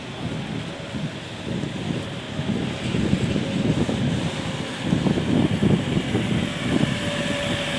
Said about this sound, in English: Trying to stop out the wind for you guys.